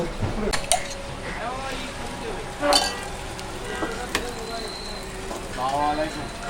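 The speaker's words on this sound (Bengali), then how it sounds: "এই হচ্ছে আমাদের ডিম ফ্রাই করা হচ্ছে" Eggs fry in a restaurant kitchen at a hotel in Jessore. Oil sizzles steadily while utensils clink and scrape now and then, and voices murmur in the background.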